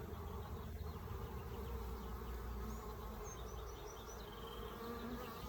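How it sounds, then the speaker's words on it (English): Honey bees buzzing steadily at a Flow Hive, a dense continuous drone close by at low volume with no pauses. "we've got the bees in the hive now"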